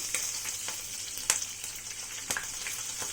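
Ajwain seeds and roughly chopped green chillies fry in oil for a dhaba-style dum arbi curry. A continuous close sizzle carries a few sharp crackles and spits.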